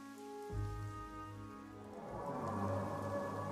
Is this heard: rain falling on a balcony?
yes